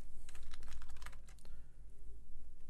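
Rapid typing on a computer keyboard in a quiet room, a quick run of close, crisp key clicks that bunch up in the first half and then thin out to a few scattered taps over a low steady hum, with no talking.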